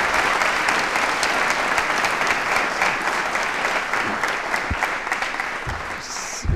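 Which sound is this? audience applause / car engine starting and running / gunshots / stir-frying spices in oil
audience applause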